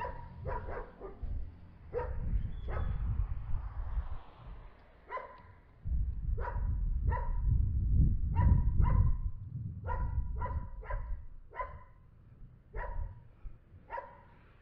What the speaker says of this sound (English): but the dogs are always barking.